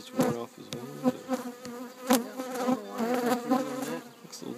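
Honeybees buzz at an opened hive, a close, wavering drone with pitch that rises and falls as individual bees fly past near the listener, with no talk.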